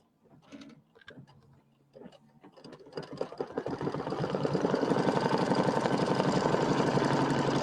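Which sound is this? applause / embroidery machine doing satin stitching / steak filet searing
embroidery machine doing satin stitching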